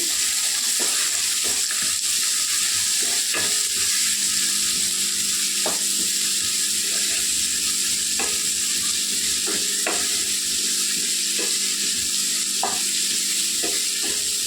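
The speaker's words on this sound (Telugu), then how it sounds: "ఇంకా ఏగాలండి ఉల్లిపాయలు" Onions frying in a pan with green chillies, salt and turmeric for a spinach curry, a steady sizzle running throughout with periodic stirring scrapes and clicks, no talk.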